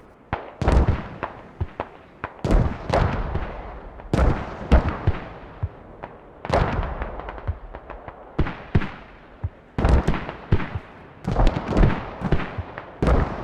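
Mortar shells exploding around a habitat in the military shooter game Squad, a rapid series of sharp booming blasts, some near and some farther off, landing in irregular bursts.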